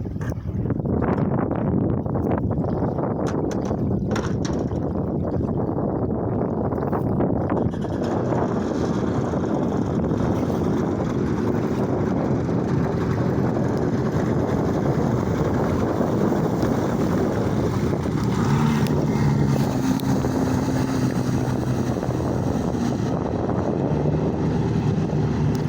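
An aluminum boat rigged with a jet ski engine and pump runs on the water in windy weather, a constant loud roar of engine and water churn mixed with heavy wind buffeting the microphone.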